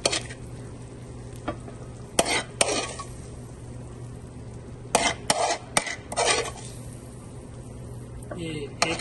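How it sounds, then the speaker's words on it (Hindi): Butter chicken being served onto a plate in an Indian restaurant kitchen in America: clinks and scrapes of a utensil against pan and plate, with a faint steady hum and sizzle underneath. "इसमें डालेंगे हम बटर चिकन।"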